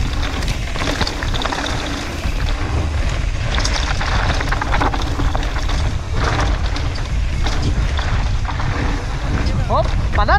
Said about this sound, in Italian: senti che vento!